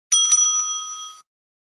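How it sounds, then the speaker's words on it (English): A single bell strike from a debate timekeeper at an English debate competition, a bright ringing tone that sustains clearly for about a second before cutting off, alone with no talk. "The timekeeper will ring the bell once"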